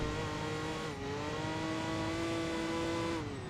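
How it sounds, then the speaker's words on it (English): Race cars in Enthusia Professional Racing drone past at the Nürburgring with a loud, continuous engine whine that dips briefly and then climbs steadily, filling the whole stretch with no talking. "I like how you can hear the cars as you go past them, like on the other side of the wall."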